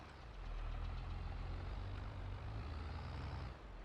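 Heavy truck hauling a trailer in reverse in the Farming Simulator 22 video game, a steady loud diesel engine drone with deep low rumble and a hiss of air brakes, continuous throughout.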